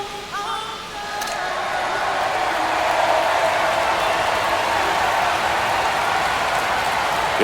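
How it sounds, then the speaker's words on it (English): A stadium crowd in MLB The Show 25 swells into a steady roar of cheering and applause as the Toronto Blue Jays face the Tampa Bay Rays, broad and sustained after a quieter opening. "The crowd is amped up, ready to get this season underway"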